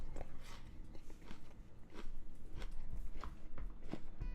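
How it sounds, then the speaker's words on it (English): Someone bites and chews an apple close to the mic, with sharp separate crunches spaced about half a second apart and soft chewing between them. "Just crunching away on the apple."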